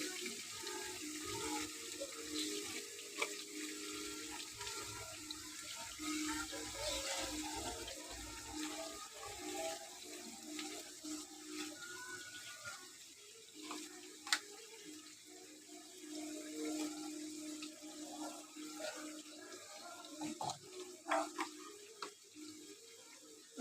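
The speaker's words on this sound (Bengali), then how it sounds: "বাটিটা ধুয়ে একটু জল দিয়ে দিলাম" A bowl is rinsed under a running kitchen tap while cooking chicken kosha, a steady close stream of water splashing with small clatters, with no talking.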